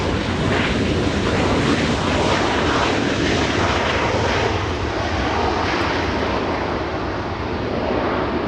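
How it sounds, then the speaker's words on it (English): A Lufthansa Airbus A340-600 four-engine jet rumbles loudly and steadily throughout its takeoff, a dense, continuous roar close by that fills the whole stretch without a break. "Lufthansa, that's an A340. 600 on its way back to Munich"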